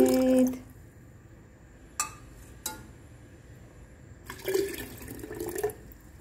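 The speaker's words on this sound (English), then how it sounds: "So our mug is almost filling up" Hot water pouring into a mug, brief splashy bursts with a longer pour toward the end, close and quiet with no talk.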